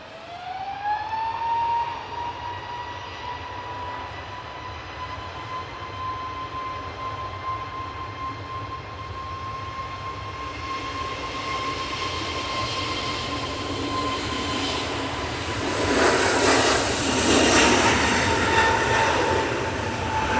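An Aer Lingus airliner on final approach to Manchester Airport, a steady high engine whine that holds as a clear tone while a broadband roar builds and swells loudest near the end as the jet passes.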